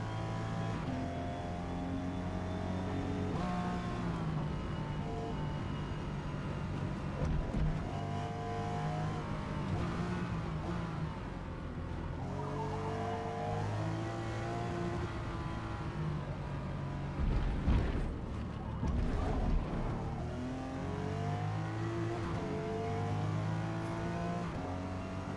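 A Toyota Supra GR engine drones and revs steadily while racing at Homestead Miami's sports car circuit in Forza Motorsport, its tone rising and falling through gear changes, with brief louder bursts near the end.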